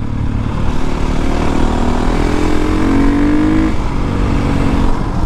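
Motorcycle engine running loud and steady close by as it is ridden, a rising whine sweeping up through the middle before easing off.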